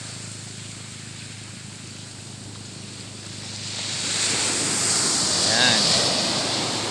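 Soft, calm sea surf rolls onto the shore, building into a louder wash of breaking water amid wind noise, with a voice speaking briefly.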